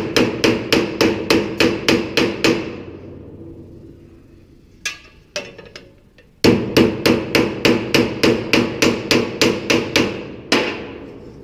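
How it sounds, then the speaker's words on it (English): A hammer peens over a pop rivet against a dolly while fabricating a sheet-metal return drop elbow: loud, sharp, evenly spaced metallic strikes in two fast bursts, separated by a short pause with a few scattered knocks. "we'll take our dolly, right, and we'll peen over the pop rivet"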